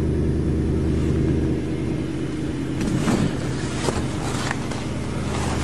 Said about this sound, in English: Nice, quiet, tick-free motor.